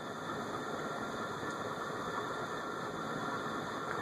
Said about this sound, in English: It almost seems like the fan has gone crooked in reverse.